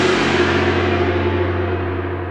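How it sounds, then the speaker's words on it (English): A struck gong sustains a deep, rich metallic roar that slowly decays, its bright upper shimmer fading while the low drone holds steady, heard close and alone. "gong"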